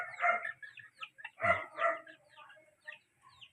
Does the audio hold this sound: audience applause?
no